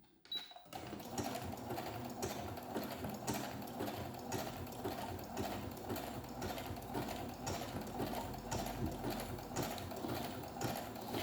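A sewing machine stitches with a twin needle, a fast, even mechanical whir with a steady pulsing chatter that runs continuously after a brief quiet start.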